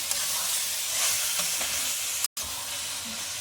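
A cluster bean dish sizzles in the pan as garam masala is stirred through it, giving a constant close frying hiss with soft scraping, broken by one very brief dropout.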